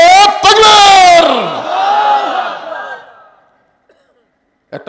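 A large crowd at a Bangladeshi religious sermon gathering roars back in unison after a takbir call, a loud sustained chanted shout that fades out into silence before a voice briefly resumes.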